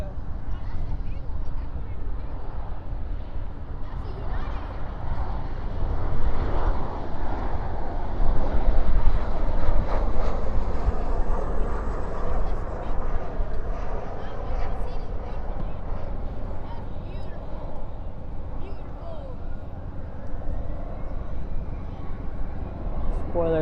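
A Boeing 737 arriving from Denver lands with spoilers up and thrust reversers out, a broad rumbling roar that swells mid-clip then eases, with people talking over it.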